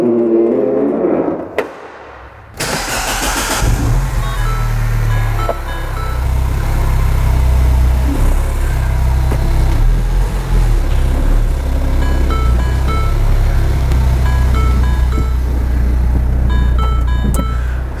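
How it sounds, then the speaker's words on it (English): A Mini Cooper's engine starts with a sharp burst after a brief pause, then runs loudly and steadily as the car drives around a shop, a close, constant engine drone lasting the rest of the clip with no speech. "I was driving this car around the shop"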